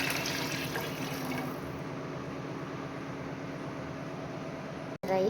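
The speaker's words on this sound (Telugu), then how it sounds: "వాటర్ పోస్తున్నాం." Water pours into a pot for biryani rice in a steady gurgling stream that eases off and then stops abruptly near the end, with no talking.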